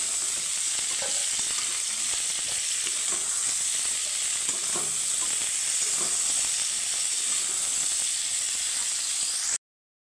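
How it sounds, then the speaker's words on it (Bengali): Cauliflower florets and potato pieces fry in hot oil, giving a steady, close sizzle with bubbling hiss and occasional stirring scrapes for nearly ten seconds, no voices, ending in sudden silence. "অবশ্যই কিন্তু এইভাবে আগে একটু ভেজে নেবে ফুলকপি আর আলুটা।"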